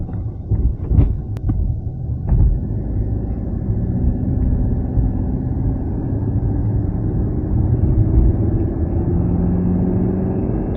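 A Mercedes C300 AMG Line engine held in manual mode climbs steadily toward 4000 rpm, a rising drone and rumble with wind and road noise all around and no voices over it.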